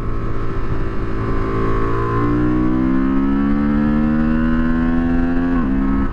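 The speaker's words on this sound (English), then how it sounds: "Let's really give this thing some revs here." Honda Transalp 750 motorcycle engine revving hard, its pitch climbing steadily over several seconds before dropping sharply near the end; loud, close and continuous with no talk.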